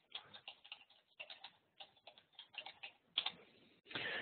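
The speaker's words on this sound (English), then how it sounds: "let me type that in" Fingers tap out a web address on a computer keyboard in quick, light, irregular bursts of clicks, quiet and close, ending in a denser clatter of keystrokes.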